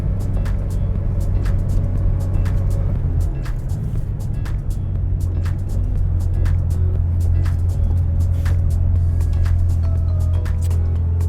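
A 1983 Porsche 911 Safari's engine drones steadily while pulling uphill in fifth gear, a loud low continuous hum inside the car with a slight shift in pitch partway through and faint ticks and rattles over it.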